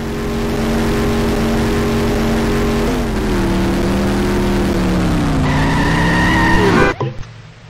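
Reckless driving in The Simpsons Hit and Run video game, a car engine droning and shifting pitch under steady acceleration with skidding tires, loud and continuous before cutting off abruptly near the end.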